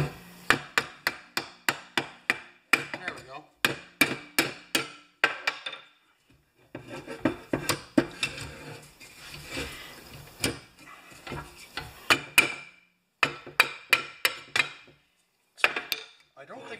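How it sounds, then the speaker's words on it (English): Hammer blows on a Briggs & Stratton engine from a Murray mower during reassembly, landing in quick rhythmic bursts of sharp knocks separated by short pauses and scraping, close and fairly loud. "Okay, hammer."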